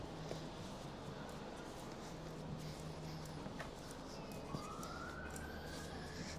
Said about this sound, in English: That sounds to me like an ambulance one